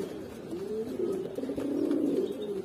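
Pet pigeons, a fancier's breeding birds, coo in a steady, low, rolling murmur that runs unbroken for the whole stretch, fairly close and moderately loud, with no voices over it.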